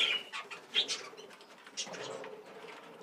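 Australian budgerigars in a breeding colony give faint, scattered chirps and soft warbling calls in short bursts, with a quiet, airy aviary background.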